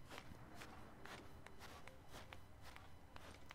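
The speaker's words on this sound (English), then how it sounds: "your footsteps are louder when you're in sand" Footsteps crunching across sand in Zelda: Breath of the Wild, a steady walking rhythm of soft, gritty steps, fairly close, over a low background hum with no talking.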